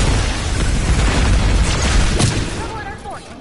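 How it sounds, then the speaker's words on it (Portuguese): A bomb detonates in a video game, a loud booming blast with a deep rumbling low end that rolls on for a few seconds before fading, with faint whistling tones near the tail. "Tinha de ativar a porra da bomba."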